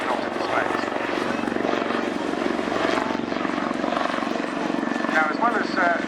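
Lynx helicopter flying a display at Airshow Cosford, a continuous rhythmic rotor thrum at moderate distance with an announcer talking over it throughout.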